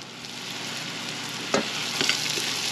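Apples caramelize and fry in a hot pan with a steady, close crackling sizzle. A few sharp knocks of stirring break in near the end.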